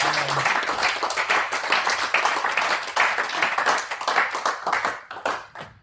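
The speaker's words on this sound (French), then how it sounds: "On va acclamer Jésus." A church congregation applauding during a service, with many hands clapping in a sustained, fairly loud burst that swells and then tapers off near the end.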